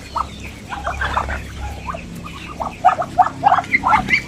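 Harsh, honking quacks of ducks during a hunt repeat in irregular bursts, getting louder and busier toward the end, with a low rumble underneath.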